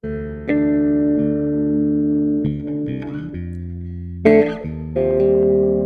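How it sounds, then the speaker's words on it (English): Sustained guitar chords bloom into shimmering, chorused reverb with a pulsing tremolo, each new chord ringing out in a wide, airy wash. "I added another shimmer, and this one has a chorus and a tremolo on it right here."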